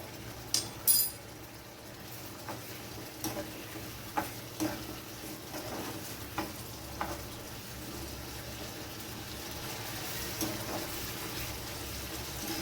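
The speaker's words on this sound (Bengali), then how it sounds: "মশলাটা একটু নাড়াচাড়া করে নিলাম।" Spices with turmeric stirred in a pan, a soft scraping and sizzling texture broken by a few light clinks of the spoon against the pan, quiet and steady with no talking.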